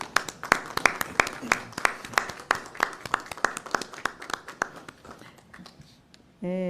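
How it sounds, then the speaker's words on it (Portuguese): Crisp, separate hand claps from a small group at a city council plenary session in São Paulo, evenly paced and fairly close, fading out before a brief tone at the end. "Peço uma salva de palmas aos demais colegas."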